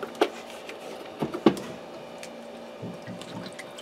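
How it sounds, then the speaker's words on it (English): Orange juice, about a cup, poured into a pressure cooker and scraped across the bottom to deglaze, heard as a few soft liquid splashes and drips followed by low scraping scuffs, close and fairly quiet. "I'm going to dump about a cup of orange juice in the pressure cooker and scrape up some of that goodness from the bottom"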